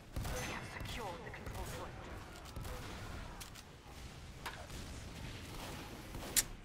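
Team Fortress 2 combat with a sticky bomb launcher firing, heard as scattered thumps and mechanical clicks among ongoing gunfire and game noise, with a sharp burst near the end and someone talking over it.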